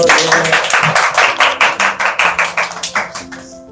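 A short burst of clapping at a business talk, a fairly small audience applauding in quick rhythm for a few seconds before it fades out.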